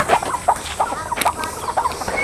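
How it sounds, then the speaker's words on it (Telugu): Breeding hens of a country chicken breed on a poultry farm cluck in repeated short, close bursts, steady through the moment with a faint background hum and no talking. "ఈ పెట్టలని మీరు చూడొచ్చు"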